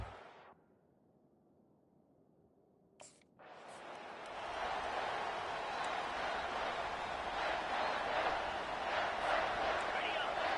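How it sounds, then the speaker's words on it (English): Stadium crowd in EA Sports College Football swelling into a loud, sustained roar after a near-silent start and a brief click, with commentary voices running over the din. "this crowd bringing an ear-splitting welcome to their visitors"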